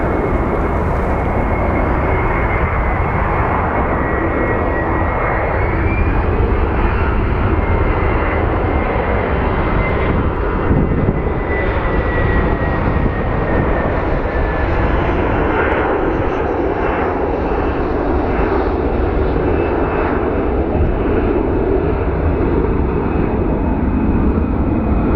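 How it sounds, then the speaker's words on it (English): A Delta Airlines Airbus A321 jet landing at Phoenix Sky Harbor, arriving from Atlanta, makes a loud, steady engine roar with a whining tone that holds for the whole stretch, close and continuous. "It's a Delta Airlines A321 coming in from Atlanta."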